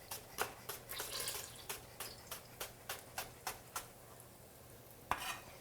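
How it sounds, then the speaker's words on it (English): A knife slicing a leek into thin slices on a cutting board, a steady run of crisp, evenly spaced taps with a pause and one final cut, quiet and close. "And we're going to cut this now into thin slices."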